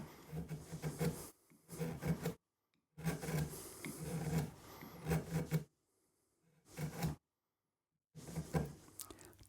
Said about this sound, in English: That was a lot of carving, that was a lot of chiseling, that was a lot of sanding